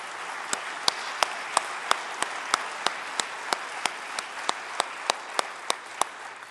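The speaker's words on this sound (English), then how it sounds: "Please join me in applauding them" Applause from an audience at a county schools state-of-education address, a steady wash of clapping with sharp individual claps standing out at a regular pace throughout, moderately loud and without speech.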